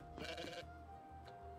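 Goat bleating in the video game Kao the Kangaroo, one quavering bleat followed by a short fainter cry, quiet behind a low steady game hum with no talk.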